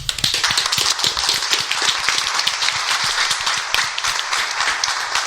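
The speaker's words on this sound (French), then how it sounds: "On s'applaudit." A small group applauding, a dense patter of many overlapping claps at steady loudness, fairly close, with no voices on top.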